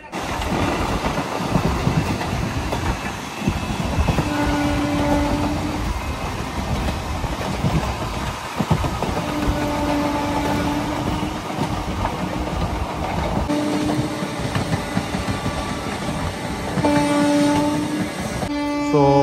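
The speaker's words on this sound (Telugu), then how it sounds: "మన ట్రైన్ వచ్చేసి స్టార్ట్ అవుతుంది విల్లుపురం నుంచి" Boat Mail Express train from Chennai running on rails near Villupuram, with a steady loud rumble and rattling of carriages throughout, occasional tonal squeals or horn-like tones rising above the continuous clatter.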